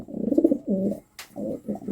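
A male pigeon coos softly in a few short rolling phrases, close by, with a brief rustle in the middle.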